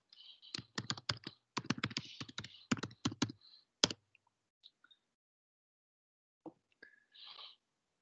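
Someone types personal details on a computer keyboard, a rapid run of sharp, close key clicks that stops abruptly, followed by a few scattered taps after a pause.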